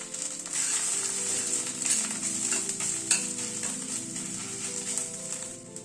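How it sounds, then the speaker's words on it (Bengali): Ginger and green chillies sizzle in a pan, a continuous close frying hiss broken by scraping stirs of a spatula, with no voices. "আদা আর কাঁচা লঙ্কাটাকে একটুখানি ভেজে নিলাম, নাড়াচাড়া করে নিলাম।"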